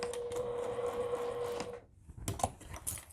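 A sewing machine back-stitching a seam, a rapid mechanical whirring run that stops abruptly, followed by a few light clicks and handling knocks, close and quiet.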